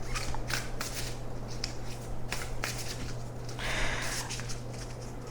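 Numerology Oracle deck cards are shuffled by hand close up, giving repeated papery riffles and slaps in uneven bursts over a steady low hum, with no talk.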